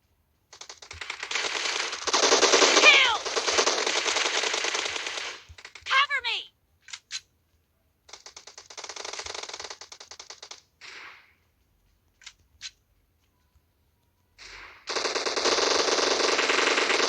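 Bursts of automatic gunfire from the PUBG Mobile video game, several long rapid volleys and short single shots separated by pauses, loud and close.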